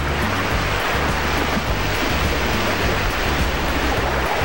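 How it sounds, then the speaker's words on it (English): A 5-horsepower paddle wheel churns water nonstop in a 100-foot concrete tilapia tank, giving a loud, continuous roar of splashing water with a faint rhythmic mechanical thump underneath. "A 5-horsepower paddy wheel is kept running 24/7."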